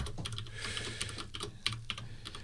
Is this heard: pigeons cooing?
no